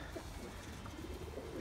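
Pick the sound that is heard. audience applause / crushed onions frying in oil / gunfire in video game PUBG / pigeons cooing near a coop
pigeons cooing near a coop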